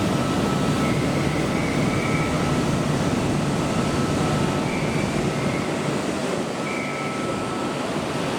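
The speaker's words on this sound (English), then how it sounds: "The next train to arrive on platform 9 terminates here." At Sydney Central Railway Station, a train arrives at the platform with a loud, continuous rumble and roar, faint tonal whines rising and fading briefly above the steady din, no voices.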